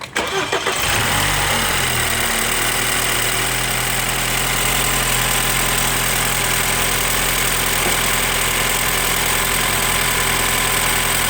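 A US-spec 2012 BMW 328i F30 with the N26 engine and a reported abnormal engine noise cold-starts with a brief crank and catch, then settles into a loud, steady, close idle hum.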